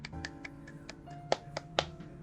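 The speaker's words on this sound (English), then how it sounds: "Let's give a nice clap." Sparse, crisp claps or snaps sound from an in-game crowd in Reverse 1999, spaced irregularly at a fairly quiet level, with a few sharper accents and a faint musical tone underneath.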